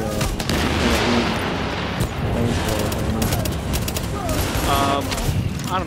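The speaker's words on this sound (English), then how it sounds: "some of the gunshots sound a little bit muffled" Muffled gunfire in a multiplayer shooter game, with dense overlapping bursts of shots and booms that sound dull and somewhat smothered, loud and continuous throughout.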